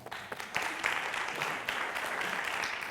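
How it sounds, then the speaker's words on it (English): A conference audience applauds steadily for the whole stretch, a dense wash of clapping that stays fairly even, heard from inside the room. "let's give them a round of applause"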